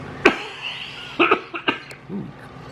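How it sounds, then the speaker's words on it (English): Several sharp coughs close to the microphone: one at the start, then a quick cluster of three or four, ending with a softer throaty cough. "All of a sudden I'm coughing."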